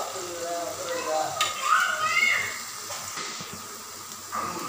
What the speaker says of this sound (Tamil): வெங்காயம் நல்லா வதங்கி வரட்டுங்க